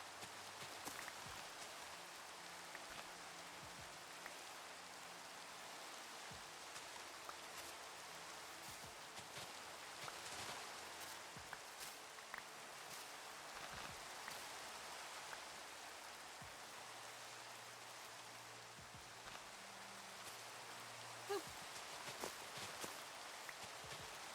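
Steady rain falls in a multiplayer survival video game, a continuous soft hiss of drops on surfaces with occasional faint taps and low background tones, no voices.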